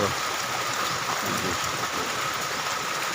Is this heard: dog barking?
no